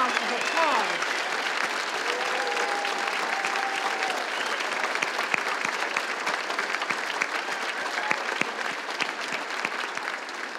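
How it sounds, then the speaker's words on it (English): A large audience applauds educators at a political gathering, a long steady roar of clapping with occasional sharp individual claps, while a few voices speak and call out beneath it. "Let's give them a huge round of applause."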